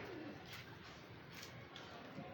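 Pigeons coo faintly in a household setting, soft low calls repeating under a steady background hiss.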